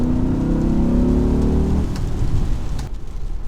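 A BMW E61 M5 Touring's V10 engine drones loud and close at steady revs, then drops off into a rushing, rumbling wash of road and wind noise.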